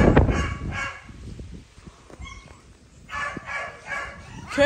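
A dog barks in several short bursts at moderate distance, with pauses and some faint rustling between barks.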